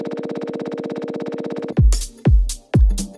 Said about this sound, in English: to get some basic stutter glitch effects